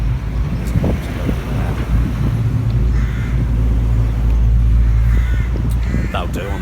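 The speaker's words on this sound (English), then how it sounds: "It's quite a windy day, as we can probably hear on the camera." Wind on a blustery day outdoors at Cottenham, Cambridge, a loud continuous low rumble buffeting the microphone throughout, with someone talking over it and a few faint distant bird calls.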